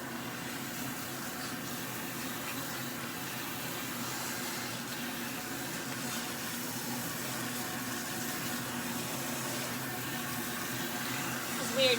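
Steady running water splashing continuously close by as hair is rinsed, with a constant broadband hiss and no talking.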